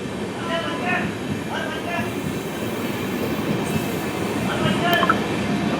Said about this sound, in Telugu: ఇది స్టార్ట్ అయింది.